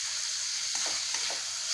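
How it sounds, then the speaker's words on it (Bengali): Spiced chicken patty filling with pepper, chicken masala and Kashmiri chili powder fries in a pan on a gas stove, giving a steady bright sizzle with a few soft stirring scrapes, close and alone. "এটা এখন খুব ভালোভাবে ভেজে নেবো একটু"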